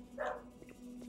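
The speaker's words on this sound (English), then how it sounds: "Oh my god, dog." A dog barks once in a room, a short, faint yelp heard alone, with a steady low electrical hum underneath.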